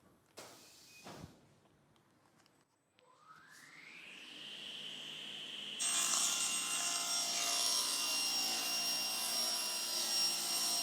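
A table saw in a wood workshop spins up with a rising whine, then bites into sheet material and holds a loud, steady cutting roar, preceded by a few knocks and handling sounds.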